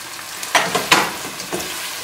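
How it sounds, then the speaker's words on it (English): Red onion frying in a pan as it browns for a curry: a soft sizzle broken by a few sharp scraping stir strokes, close and short. "I'm going to fry the onion until it becomes"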